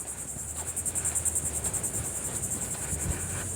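Crickets chirp in a steady, pulsing high trill on sandy beach dunes near the ocean in Palm Coast, Florida, with a soft wash of surf and wind beneath and no voices.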